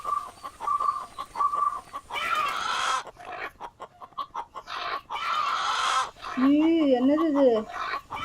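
A chicken keeps up a run of loud, close clucks and squawking bursts, with a person speaking briefly in between.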